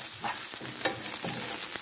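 Kofta meatballs fry in a hot pan with a steady, soft sizzle, broken by a few brief stirring scrapes, close and fairly quiet with no talking.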